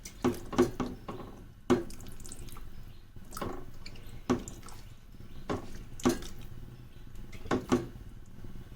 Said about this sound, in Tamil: தண்ணி ஊற்றி அந்த பாத்திரத்தை சுத்தம் பண்ணிக்கலாம்.